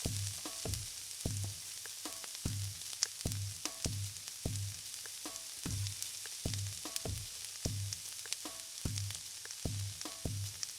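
Homemade sausages, boiled first, fry in a pan with a soft continuous sizzle, broken by regular short thumps or stirring strokes about every half second.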